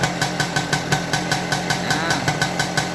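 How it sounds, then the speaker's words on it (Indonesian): A motorcycle engine idles with a steady, even rhythm of pulses. Wiring faults in the electrical system may be slowing the bike. It sounds close, moderately loud and alone, with no talk. "Oke, di sini mesin sudah saya nyalakan ya."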